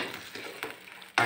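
Chicken-foot sauce for ceker mercon, thinned with the broth from boiling the feet, stirred in a pan, giving soft sizzling and scraping strokes that end in a louder clatter.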